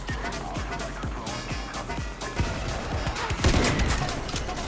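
Automated turrets in the shooter game Ironsight fire rapid bursts of repeated gunshots, a dense rattling fusillade close by with engine-like rumble underneath and a voice talking over it.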